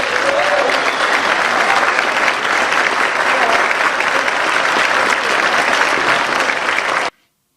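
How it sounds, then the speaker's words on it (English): An audience gives a big, sustained round of applause at an evening honouring event, loud and dense for about seven seconds before stopping abruptly. "Let's give Duncan a big round of applause."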